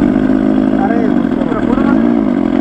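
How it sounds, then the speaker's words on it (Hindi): A loud, continuous engine-like growl with a rising and falling pitch, a simulated superbike exhaust note from an Ola S1 Pro electric scooter, steady and close throughout. "ये सुपर बाइक का साउंड है।"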